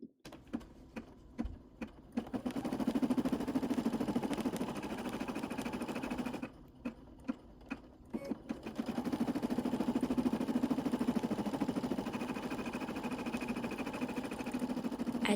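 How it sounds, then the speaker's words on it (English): An embroidery machine stitching an appliqué in black thread, a steady mechanical whir with a quick rhythmic clatter, heard close. It pauses twice, with separate clicks and taps between the running stretches. "I forgot to change the thread color, so it is embroidering in black"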